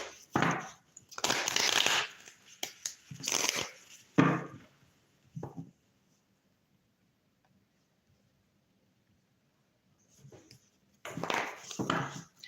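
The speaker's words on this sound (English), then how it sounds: "Let me go ahead and shuffle these cards." A deck of reading cards is shuffled up close in several short riffling bursts separated by pauses, with a long quiet stretch in the middle, then a final burst of shuffling.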